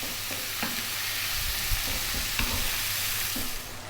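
Tomatoes cooking down in a pan are stirred with a spoon, giving soft irregular scrapes and knocks over a continuous gentle sizzle, close by and with no voices.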